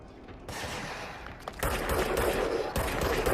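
Rapid gunfire from the video game Control, dense bursts of shots over a rumbling game soundscape, loud and continuous with sharp onsets.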